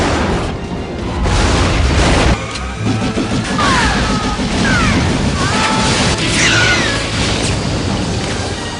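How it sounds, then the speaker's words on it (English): Explosions in an action scene from the 1997 film Tomorrow Never Dies rumble and crash loudly and continuously, heavy booms layered with debris, whooshes and chaotic effects. "There's lots of explosions."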